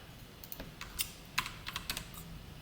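Code is typed on a computer keyboard, a run of quiet, irregular key clicks close by with no talking.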